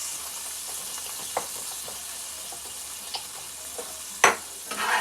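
A whisk scrapes browned bits off the bottom of a hot pan over a steady low sizzle, with a few sharp metallic scrapes and clinks scattered through, one louder scrape near the end.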